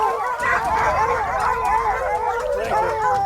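Hunting dogs in rugged Paraguay jaguar country barking continuously at a jaguar, a dense overlapping chorus of loud barks, yips and whimpering howls from several dogs close by.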